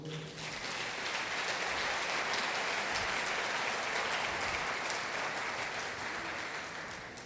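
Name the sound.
church congregation applauding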